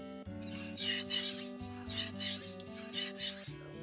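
Wet knife blade rubbed in steady repeated strokes across a whetstone, a close, rhythmic rasping scrape with about six even passes and no voices.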